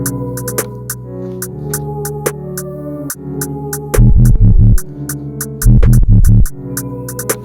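Deep booming drill-style 808 bass notes, made in FL Studio Mobile, slide in two loud bursts beneath a looping melodic beat with crisp repeating hi-hats.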